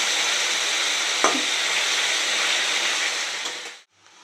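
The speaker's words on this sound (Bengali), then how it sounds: "এখন আমি আলু ভাজাটা দিয়ে দেবো" Potatoes frying in hot oil in a wok give a loud, steady broadband sizzle with one sharp clack near the middle, before the sound cuts off abruptly close to the end.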